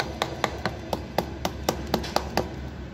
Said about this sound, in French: l'astuce, c'est prendre son petit marteau et tapoter pour décoller légèrement la plaque